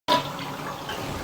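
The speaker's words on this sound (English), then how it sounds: "but the toilet flush is fine" Toilet in a 1919 house flushing, a sudden close rush of water that starts abruptly and keeps running steadily, alone without talk.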